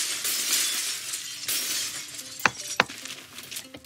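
Glass shattering as a goat headbutts it in Goat Simulator, with a hissing crash of breaking glass followed by two sharp clinking impacts of falling shards, with no talk.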